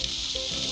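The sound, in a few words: garlic sizzling in heated oil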